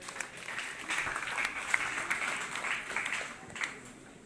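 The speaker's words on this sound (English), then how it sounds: "Please give a round of applause to NYSC." Applause from an audience at a lecture for NYSC corps members in Nigeria, a steady dense patter of many hands clapping at moderate distance, holding for the whole stretch with brief louder bursts.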